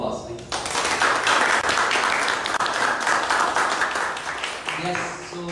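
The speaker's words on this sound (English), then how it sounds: "A round of applause, please." Audience applause at a pageant welcome ceremony, a loud, dense wave of crowd clapping that swells after a short spoken lead-in and carries on steadily, with voices heard briefly at the close.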